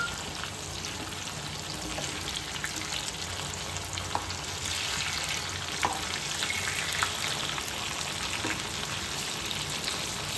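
Fish pieces for a Chettinad fish fry sizzle steadily in a hot pan, a dense, constant crackle of oil with occasional sharper pops, close and alone throughout.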